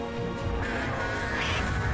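A duck quacks in the co-op video game Struggling, a short nasal call standing alone over a busy game soundtrack.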